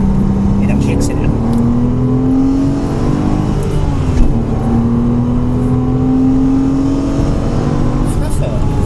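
A Porsche Cayman S accelerates hard on the Mettet circuit. The loud engine note climbs steadily in pitch through the gears, with a brief dip between pulls.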